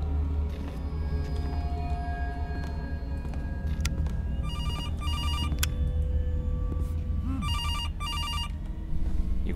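A telephone rings in a Five Nights at Freddy's fan-made horror game, two bursts of rapid electronic bell trills over a low droning ambient hum, with no talking.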